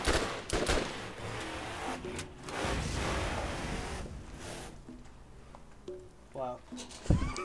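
Enemy bandits shooting in Borderlands: bursts of gunfire and crackling shots come through a busy game mix, with people talking over much of it.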